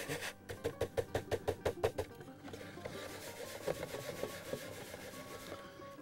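Lettuce seed being rubbed by hand to clean it: a rapid series of rhythmic scratchy rubbing strokes, close, then softer, irregular rubbing that continues quietly.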